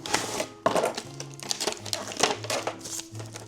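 Plastic packaging crinkling and rustling while a Temu parcel is unpacked, irregular close crackles and handling noises in quick bursts, with faint background tones and no speech.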